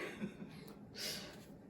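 A single cough, short and throaty, heard close by over a quiet room.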